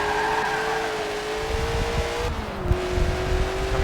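Honda and Ferrari race cars in a racing video game, a loud steady engine drone at high revs that dips briefly as it shifts, with a faint tyre squeal near the end.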